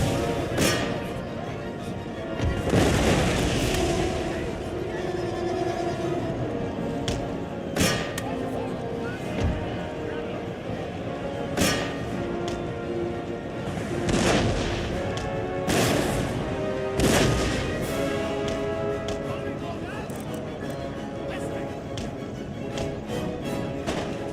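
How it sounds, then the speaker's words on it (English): Cannons fire in a Total War Empire battle: scattered booming blasts and crashes, several spaced seconds apart, ring out over steady battle noise, while someone talks on and off throughout. "Alright, cannon fire on that one."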